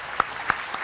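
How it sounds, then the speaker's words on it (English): A few scattered claps from an audience thanking Graham Bettis at the end of a talk on deteriorated steel and timber piling: three sharp, separate hand claps spaced evenly apart, moderately near, with no talk. "let's give Graham a last round of applause"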